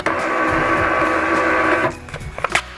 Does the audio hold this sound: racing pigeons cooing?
no